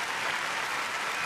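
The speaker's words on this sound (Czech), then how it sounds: "Švédské publikum je vděčné publikum a oceňuje vystoupení Viktorie Helgesonové" An audience at the 2015 European Figure Skating Championships ladies' free skate applauds in a dense, steady wash of clapping, heard alone at moderate loudness for a brief moment.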